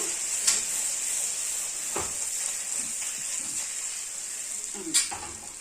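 Puti fish frying in mustard in a hot pan give off a steady, bright sizzle, with a few soft scraping knocks as the pieces are flipped.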